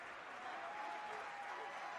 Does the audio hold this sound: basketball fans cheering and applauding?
yes